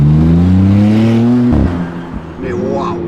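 McLaren supercar engine pulling hard under heavy acceleration, a loud rising drone that climbs in pitch, drops at a gear change, then builds again, heard close from inside the car.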